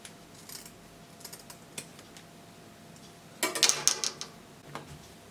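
Scissors snip through fabric cut for an agbada dress, sparse quiet clicks early, then a louder burst of rapid close cutting and rustling near the middle, followed by one last snip.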